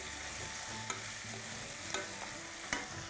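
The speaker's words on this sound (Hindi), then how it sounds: "और मिक्स करेंगे। ये थोड़ा मिक्स हो जाए" Chicken stirred in a frying pan during Chicken Changezi preparation, with a faint continuous sizzle and a few soft scraping clicks from the spoon.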